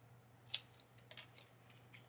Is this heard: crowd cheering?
no